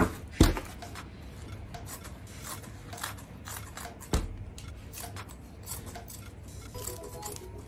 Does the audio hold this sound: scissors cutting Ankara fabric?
yes